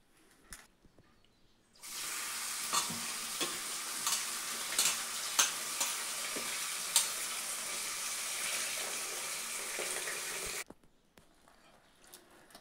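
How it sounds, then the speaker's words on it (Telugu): Cluster beans being washed by hand in water, a steady splashing rush lasting several seconds with small clinks and knocks, starting and stopping abruptly, with no talk. "గోరుచిక్కుడుగా ఒలుచుకున్నాం కదా, ఇవి బాగా నీళ్ళలో వేసి కడుక్కుందాము."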